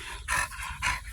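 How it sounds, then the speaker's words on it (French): A dog pants close by outdoors at a campsite, with quick rhythmic breaths in two clear bursts over a short stretch. "C'est un chien, ça passe tout le temps"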